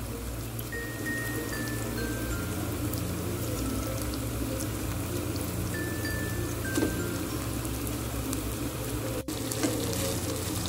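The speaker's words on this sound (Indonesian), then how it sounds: "Akan saya masukkan kornetnya ya." Corned beef frying in a pan with wilted, fragrant spices, giving a steady, even sizzle with faint stirring and scraping sounds throughout. Nobody speaks over it.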